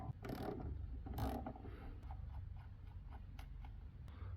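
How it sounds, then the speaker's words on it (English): A 10 mm ratchet wrench backs out bolts on a go-kart carburetor air box, giving rapid close clicking pawl ratchets over a low mechanical rumble, busier near the start and thinning to scattered clicks later. "it's always a 10 millimeter for these air boxes that hold in the carburetor"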